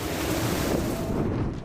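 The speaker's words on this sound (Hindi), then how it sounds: "यास तूफान के टकराने से पहले ही तेज हवाएं और बारिश संकेत दे रही थी कि खतरा कितना" Strong cyclone winds and rain on the Odisha and West Bengal coast ahead of Cyclone Yaas making landfall: a loud, steady roar of wind and surf-like noise fills the whole moment, with no voices.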